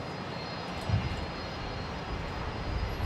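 A Link Airways Saab turboprop at Brisbane Airport produces a steady, broadband engine roar at moderate distance, constant throughout with slight swells.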